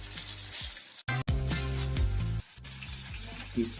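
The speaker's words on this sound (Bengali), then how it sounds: "এবার তেল একটু গরম হওয়ার পর মাংসগুলো এক পিস করে ডালতে হবে।" Pieces of chicken hit hot oil one at a time for a chicken fry. The close, steady sizzle breaks off briefly a few times and then carries on.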